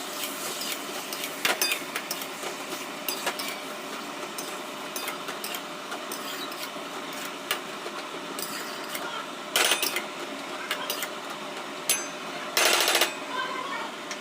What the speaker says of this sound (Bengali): এখানে চিমনিটা চলছে, তো ওই জন্য একটু আওয়াজ হচ্ছে